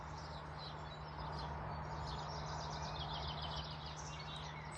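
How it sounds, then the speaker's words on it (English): Birds chirp and sing softly in the distance over a constant steady hum, with no talking. "Listening to those birds sing,"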